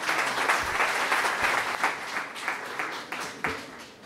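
An audience at a lecture hall talk applauds warmly, a dense continuous clatter of many hands clapping at moderate distance with a few sharper individual claps standing out.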